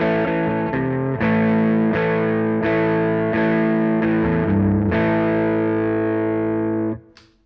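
Electric guitar chords strummed through a Greer Lightspeed overdrive pedal on the bridge pickup, each chord ringing with a furry, mildly distorted sustain, struck several times in a steady rhythm before fading out, with no voices.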